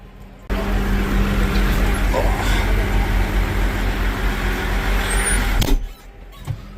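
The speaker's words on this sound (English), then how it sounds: "Brenner Transport is here. 2 trucks." Two transport trucks pulling into a farm to haul away hay bales, their heavy diesel engines producing a loud, steady low rumble that starts abruptly, holds for several seconds, then cuts off into quiet.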